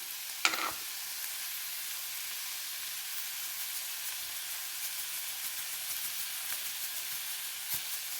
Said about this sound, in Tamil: எல்லாம் போட்டுட்டேன் நல்ல வடிவாக வதங்கி வரணும் கொஞ்சம் உப்பையும் போட்டால் டக்கண்டு வதங்கி வரும்